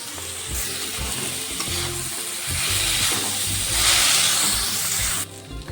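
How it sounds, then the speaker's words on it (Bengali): Ground spices with bhog dal frying in a pan while being stirred, a loud continuous sizzle and hiss with scraping stirs that swells midway, then drops off sharply near the end. "মশলাটা ভালো করে নাড়াচাড়া করে দিয়ে দেবো ভোগ ডাল"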